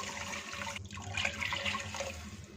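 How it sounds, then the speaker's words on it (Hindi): Water pours into a bowl holding marinated beef or mutton pieces for tikka boti, a continuous splashing, gurgling stream close by that swells after a short start. "इसी बाउल में 3 कप 700 ml पानी शामिल कर देंगे।"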